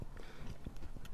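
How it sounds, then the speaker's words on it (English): A horse's hooves clop softly and irregularly as it backs up along a fence, a few quiet thuds over low rumbling background. "This is a horse intentionally walking backwards without me pulling."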